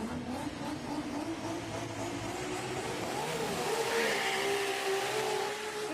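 Six-cylinder race car engine revving hard during a qualifying run, a loud continuous roar with rising and shifting pitch, heard from a distance with broad crowd-like background noise.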